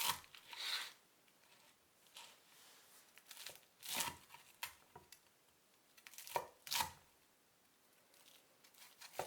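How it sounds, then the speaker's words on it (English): A knife cuts through crispy fried chicken on a board in a kitchen. Several sharp, crunchy chops come at irregular intervals, quiet and close, with no talking. "Cut them into pieces."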